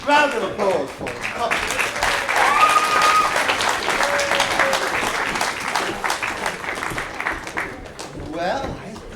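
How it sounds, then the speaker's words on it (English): An audience applauds performers at a Hartland Players amateur stage production of Sleeping Beauty, following a farmyard sing-along; dense, sustained clapping with cheering and voices mixed in, tapering toward the end. "Round of applause for them."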